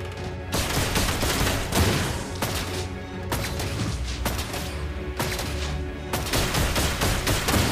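Loud bursts of rapid gunfire come in several volleys with brief gaps between them, sharp and close, with no talking.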